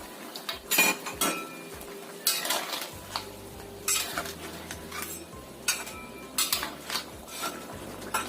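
Crabs being dropped into a pot of boiling corn, with metallic clinks of a utensil against the pot and scattered clattering knocks, fairly close and quiet, no talking.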